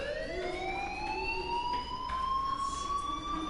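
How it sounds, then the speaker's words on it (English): A fire alarm wails in the video game Life is Strange, a smooth rising siren-like sweep with bright overtones, continuous and moderately loud throughout. "Hey, do you hear that fire alarm?"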